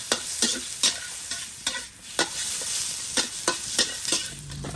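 Chicken fat sizzles in a hot pan with no added oil, a steady crackle punctuated by repeated sharp scraping or stirring strokes close by.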